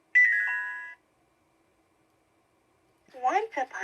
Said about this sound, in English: turn the page when you hear the chime.